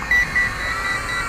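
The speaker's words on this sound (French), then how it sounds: "c'est que la réaction du radio qui bip" A Wltoys Q353 triphibian drone's radio transmitter beeps on low battery: a handful of short, evenly spaced high-pitched beeps over a steady hum, close and fairly clear.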